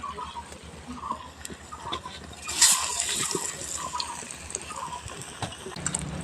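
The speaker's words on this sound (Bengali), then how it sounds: "এই যে আমি আরেকটা বেগুনি ছেড়ে দেবো তেলের মধ্যে।" Eggplant fritters (beguni) frying in hot oil give a steady bubbling hiss with occasional soft pops, close and moderate in level.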